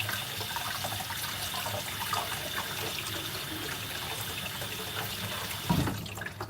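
Tap water runs steadily while a lemon is washed at a kitchen sink during baking prep, a close, continuous splashing hiss with no talking.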